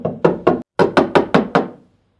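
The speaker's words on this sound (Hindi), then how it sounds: "अचानक दरवाजे की कुंडी खटखटाई गई।" A sharp metallic rapping on a door latch at night: three quick knocks, a short pause, then five more in even rhythm, close and loud, ending in silence.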